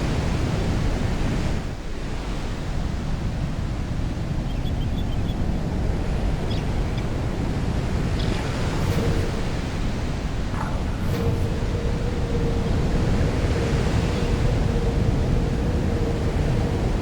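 Ocean surf at Pebble Beach in the golf video game Tiger Woods PGA Tour 2004 washes continuously as a broad, steady roar of breaking waves and wind, with no voices over it.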